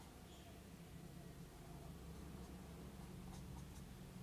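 A pen scratches across paper while working a reasoning problem, drawing a line, with faint, soft strokes near the end over a low background hiss.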